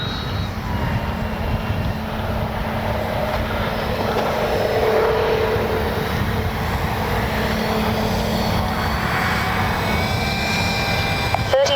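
A Dynam F6F Hellcat RC warbird model plane comes in to land, its electric motor droning steadily, loud and fairly close, over about twelve seconds with wind noise and no speech.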